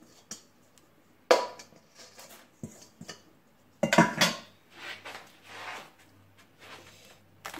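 Biscuit crumb base for a cheesecake being poured into a cake mould and pressed down, heard as scattered rustling and clattering bursts, with a sharper clatter near the start and another cluster midway, close and moderately loud.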